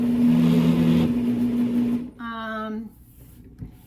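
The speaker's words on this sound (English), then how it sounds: "And the last step is just to blend it all together." A blender whirs steadily while mixing gelatin pudding, a loud even motor drone that cuts out after about two seconds and leaves a brief quieter tail, with a voice talking over it.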